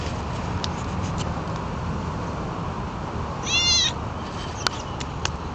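A cat gives a single drawn-out meow, fairly close and clear, over a steady background hiss, with a couple of faint clicks afterward.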